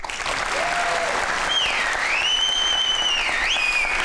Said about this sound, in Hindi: अब ताली बजाएं अच्छी सी।